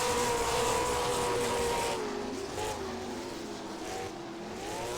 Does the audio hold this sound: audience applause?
no